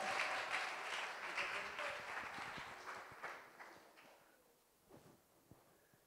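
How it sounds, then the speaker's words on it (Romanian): Audience applause at a children's singing contest in Sighișoara, starting fairly loud and dense, then thinning and fading into scattered claps toward the end. "Aplauze!"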